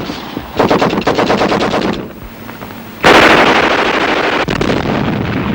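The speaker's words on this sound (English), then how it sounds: "Machine gun bullets search for any seeking escape." Rapid bursts of machine gun fire on the Kokoda front line rattle out in rhythmic strings, pausing briefly before a louder, closer volley erupts and keeps going with echoing noise.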